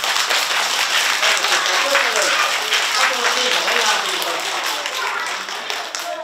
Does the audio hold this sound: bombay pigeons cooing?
no